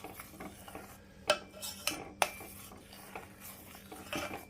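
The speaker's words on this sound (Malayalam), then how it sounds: "നാരങ്ങ പിഴിഞ്ഞൊഴിച്ചതിന് ശേഷം നമ്മൾ ശരിക്കും അതൊന്ന് ഇളക്കി കൊടുക്കുക." A spoon stirs lemon juice into milk and water in a bowl for eggless mayonnaise, giving a few sharp clinks of metal on dish amid soft swishing, fairly close and with no talk.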